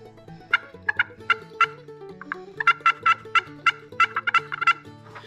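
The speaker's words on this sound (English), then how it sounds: "This is a slate call." A slate turkey call scratched by a sassafras wooden striker, giving sharp, high yelps in quick clusters over a low background tone, close and clear.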